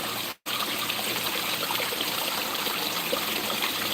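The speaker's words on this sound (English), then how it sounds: "That really slows that splash up right there though." A garden water stream splashes over rocks in a steady, close rush, briefly interrupted near the start and then continuing evenly.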